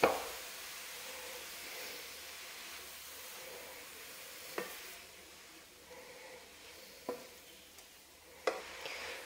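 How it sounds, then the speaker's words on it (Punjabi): Grated carrots for carrot halwa (gajrela) roast in a little ghee over medium heat, giving a soft steady sizzle broken by occasional scrapes and clacks as the pan is stirred. "ਮੀਡੀਅਮ ਸੇਕ ਦੇ ਉੱਤੇ ਅਸੀਂ ਗਾਜਰਾਂ ਨੂੰ ਭੁੰਨਣਾ ਹੈ"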